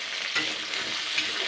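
Jackfruit seeds fry in hot oil in a pan for a fish-oil chorchori dish, giving a steady, close hiss and crackle that holds at an even level throughout, with no voices.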